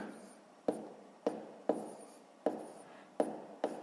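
A pen writes on paper during a sixth-grade math exercise, several sharp taps and short scratching strokes spaced out at an irregular pace, close and quiet with no talk.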